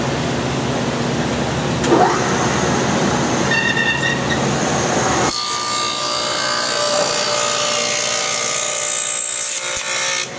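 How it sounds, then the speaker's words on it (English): An old woodworking machine cuts a large tenon in a millwork shop, giving a loud, steady mechanical roar with whining tones that shifts to a harsher, brighter cutting sound partway through. "This machine is a wonderful machine. This will give you a nice big tenon."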